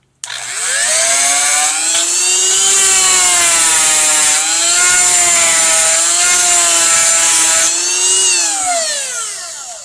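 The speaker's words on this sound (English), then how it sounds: "we're going to just turn it on and sharpen the tooth for a few seconds" An electric chainsaw sharpener grinds a chainsaw tooth with a loud, continuous high-pitched whine lasting several seconds, its pitch rising and dipping slightly as the stone bears on the tooth, close up and alone.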